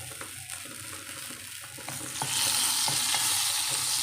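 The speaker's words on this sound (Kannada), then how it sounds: "ಎಣ್ಣೆ ಬಿಸಿ ಆದಮೇಲೆ ಸಾಸಿವೆ ಕರಿವೆ ಸೊಪ್ಪು ಒಣಮೆಣ್ಸಿನ್ಕಾಯಿ ಹಾಕಿದ್ದೀನಿ ಸ್ವಲ್ಪ ಹಿಂಗ ಹಾಕ್ತಾಯಿದ್ದೀನಿ" Mustard seeds, curry leaves, dry chillies and a pinch of hing sizzle steadily in hot oil for a tadka, a continuous crackling hiss that swells louder midway with scattered sharp pops and no voices.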